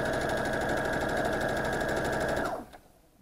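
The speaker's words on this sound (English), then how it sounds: "I'm going to sew those two-part sections together" Sewing machine stitching two fabric sections together; a steady, rapid mechanical whir with fast rhythmic needle clatter running continuously, then stopping abruptly near the end.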